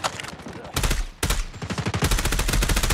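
Automatic gunfire from an enemy sentry gun in Call of Duty Mobile multiplayer, rapid loud bursts of shots with a brief pause, then sustained firing to the end.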